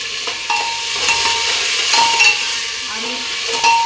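Food sizzles in hot oil in a pan on a home stove, a steady close hiss with faint stirring scrapes and light clinks throughout.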